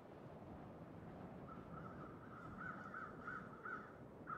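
A crow caws repeatedly, a run of about five calls at a moderate distance, in a quiet cold dawn scene in the survival game The Long Dark, with light wind hiss underneath.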